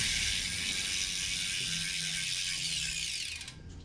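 A Colnago road bicycle's rear wheel and SRAM eTap 11-speed drivetrain spin freely on a stand, giving a continuous close whirring freehub ratchet buzz that stays steady before slowing and fading near the end.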